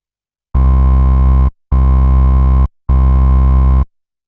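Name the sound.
synth bass with EQ bass and treble boost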